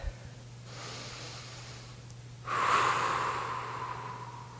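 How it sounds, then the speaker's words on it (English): A person lying on the floor during a thoracic spine self-massage exercise takes a deep audible breath, a faint airy inhale followed by a louder rushing exhale, over a low steady background hum. "Take a deep breath."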